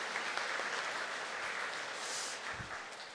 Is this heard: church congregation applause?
yes